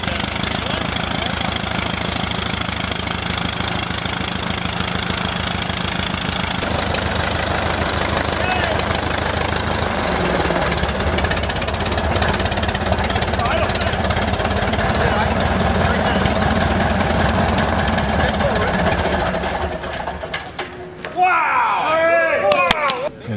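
A light aircraft engine on an experimental Super Cub runs steadily after its first start at a loud, even drone for a long stretch, with the sound changing near the end as it fades and shifts.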